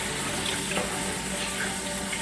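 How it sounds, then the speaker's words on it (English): Running cold tap water splashing steadily into a sink or bowl while rice is washed, a close, continuous hiss with no breaks. "Use cold water. Do not use warm water while you're washing this rice"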